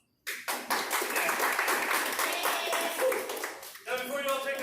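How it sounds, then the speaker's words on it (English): Audience applause and clapping at Wyatt Earp's Oriental Saloon in Tombstone, a dense, steady burst of many hands starting abruptly and sustained for several seconds, with a brief dip near the end before resuming. "I want you to give yourselves a round of applause."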